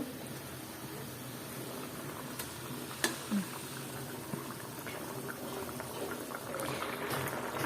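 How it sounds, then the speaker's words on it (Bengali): Water coming to a boil in a pan for a koral fish bhuna curry: a soft, continuous bubbling simmer heard close but fairly quiet, with a couple of faint clinks in the middle. "আর পানিটা বলক আসছে"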